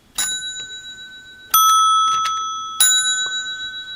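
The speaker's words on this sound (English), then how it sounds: "It's got a nice ring." Three bright metallic rings from an old telephone's bell, each struck sharply and left to decay, with short pauses between them.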